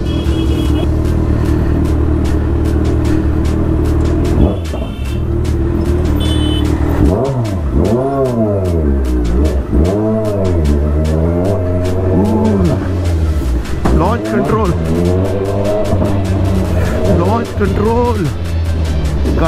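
A Kawasaki Z1000 motorcycle with a loud exhaust rumbles up close in first gear, then revs in several rising and falling bursts, while someone talks over it.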